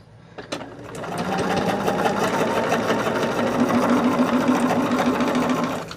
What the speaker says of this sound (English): now I have that bobbin reloaded, so I am going to put my needle back down there